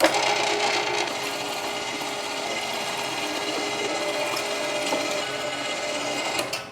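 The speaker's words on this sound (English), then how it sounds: "Out of the freezer, our meat is nice and cold, so through the grinder we go." A big meat grinder runs steadily, forcing cold sausage meat through a coarse die with a continuous close mechanical whir and grind.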